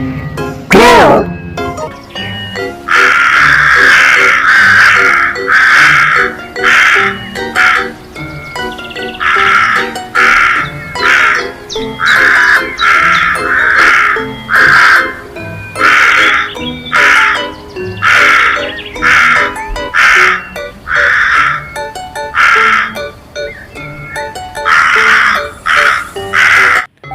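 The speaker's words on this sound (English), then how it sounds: "Crow." Repeated loud crow caws in a steady series of harsh calls, close and dominant across the whole stretch with little else beneath them.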